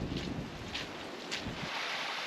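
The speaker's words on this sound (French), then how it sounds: "Il y a le vent qui se lève" Wind rises on an open hiking trail along the Cathar paths, a steady rushing gust buffeting the microphone with a few louder swells, no voices.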